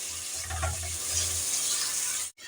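Spices with turmeric frying in a pan for a vegetarian watermelon-rind curry, a steady close hiss and sizzle with soft stirring scrapes, cutting off abruptly near the end.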